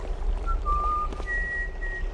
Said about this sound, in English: Oh, it's you doing whistling, Mr. Drunk Man, is it?